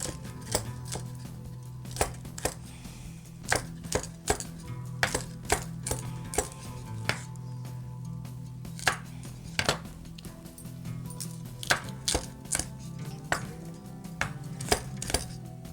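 A knife cuts guava for chutney on a board: sharp chopping clicks and taps at irregular intervals, close and fairly loud, over a low steady background hum, with no talking.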